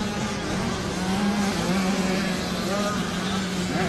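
Engines of 65cc motocross bikes, including a Husqvarna, racing at the 2020 Loretta Lynn's amateur motocross event, form a steady, continuous droning whine that sits under crowd noise and background voices.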